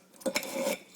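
A knife cuts through a tough stem of broccoli on a cutting board, giving a brief close scrape and crunch with two quick hits followed by a sustained slicing rasp, quiet and alone.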